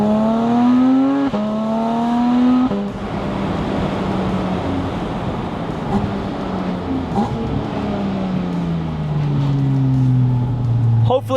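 A Porsche touring car pulls hard through several gears, each upshift dropping the rising engine howl before it climbs again, loud and close from inside the cabin with steady road rumble.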